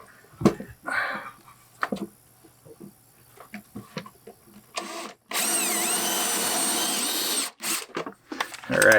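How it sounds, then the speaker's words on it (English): A power drill whines steadily for a couple of seconds, drilling a hole for an RV water inlet in a converted school bus, after scattered clanks and handling noises, then cuts off; a brief whir follows at the end. "we're gonna drill a hole now"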